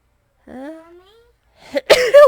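A rising, drawn-out inhale builds up, followed by a pause and then a loud, explosive sneeze close to the microphone.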